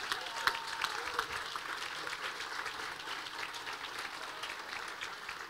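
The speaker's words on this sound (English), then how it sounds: "let's give yourselves a big round of applause." Audience at an economic forecast event applauds steadily, a dense wash of many hands clapping at moderate level, sustained throughout without a break.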